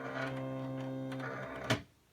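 A cutting machine slices printed, patterned heat transfer vinyl, giving a steady mechanical whir with faint tonal motor hum, a sharp clack near the end and then near silence, close by with no voices.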